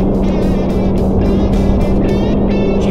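A 3D printed RC airplane at half throttle makes a low pass, its small electric motor giving a steady, loud buzzing whine with a wavering pitch that stays close throughout.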